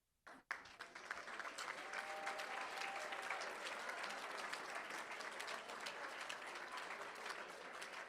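Educators are applauded at a school board meeting, a sharp knock at the start followed by steady, even clapping from a modest room audience.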